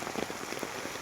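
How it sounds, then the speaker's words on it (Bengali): Heavy monsoon rain falls steadily near a wetland haor under a darkened sky, a thick constant hiss with soft patters of drops, close and even, with no voices. "দেখেন অন্ধকার হয়ে বৃষ্টি নামছে"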